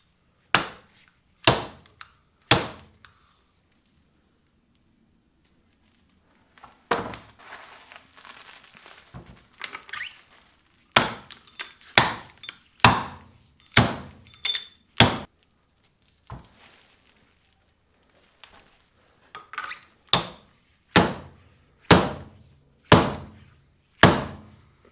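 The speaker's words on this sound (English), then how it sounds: "Drive the bushing in first, he says." Repeated sharp hammer blows drive a bushing into a Harley-Davidson front suspension during a Race Tech front end rebuild. Three quick strikes open the passage, then a long pause with faint shuffling, then two steady runs of loud, evenly spaced blows close by.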